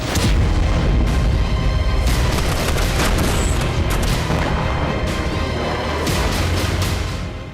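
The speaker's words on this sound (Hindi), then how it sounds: "धमाकों के शोर के बीच" War footage from Gaza carries repeated explosions and heavy booms that roll over one another in a dense, loud, continuous rumble of blasts with no voices.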